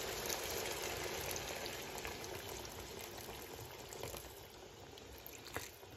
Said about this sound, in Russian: Теперь наливаем кипяченой воды.